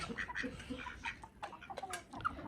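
Hens fight, squawking and clucking in rapid, agitated bursts, several birds calling over one another nearby with sharp, overlapping cries.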